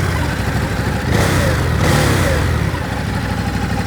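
A DZRX motorcycle engine idles with a steady rumble, then revs up in a loud swell for about a second before settling back to idle, close and alone without talking.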